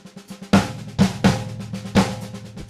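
Drum fill played up to tempo combining snare cracks with deep kick drum thumps, four loud accented strikes over a quieter ticking pulse, close and dry without any voices.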